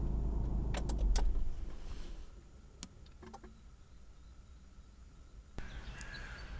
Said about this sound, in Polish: Jak widać samochód jeździ.